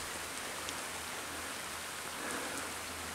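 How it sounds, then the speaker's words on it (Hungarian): Steady rain patters down outdoors, a soft, constant wash of drops with faint individual taps, heard alone without speech. "Esik az eső."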